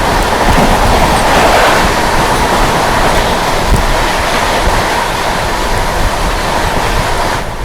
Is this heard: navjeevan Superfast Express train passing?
yes